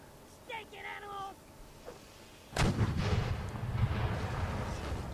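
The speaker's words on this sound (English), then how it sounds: "And the cannons continue to fire." A booming cannon blast erupts in a Mount and Blade North & South mod line battle, followed by a rumbling roar of continued artillery; a brief horn-like call sounds beforehand.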